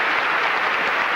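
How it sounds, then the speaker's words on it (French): Steady, dense applause from a large audience at an elite modelling contest in the Cirque d'Hiver arena in Paris, loud and continuous with no talk over it. "sous vos applaudissements."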